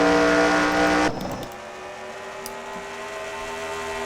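A race car in NASCAR Racing 2003, on a CAN-AM 78-lap simulation, drives with a high, steady engine whine that drops abruptly and then settles into a lower, continuous drone.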